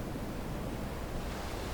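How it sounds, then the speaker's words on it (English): Ocean waves wash onto a sandy shore in a dense, steady roar of surf, broad and unbroken, with no talk over it. "the waves ever crashing on the sand"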